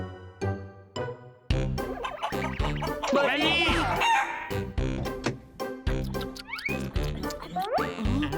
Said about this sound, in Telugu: అది కోడి